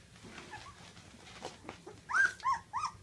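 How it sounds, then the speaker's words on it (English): Very young puppies, eyes just opening, making small growling whimpers and squeaky yelps up close, a few short rising cries clustered near the end over soft background noise. "Someone's growling over there."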